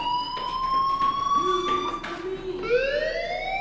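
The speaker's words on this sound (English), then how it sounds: "Hey, do you hear that fire alarm? That means you should be outside." Fire alarm at a school in the video game Life is Strange, a loud electronic siren with rising and wavering tones repeating over a few seconds, heard alone and close.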